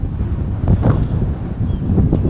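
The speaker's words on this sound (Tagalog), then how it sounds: "Lakas ng hangin." Strong wind roars and buffets the microphone in steady rumbling gusts, with a few louder surges and no voices.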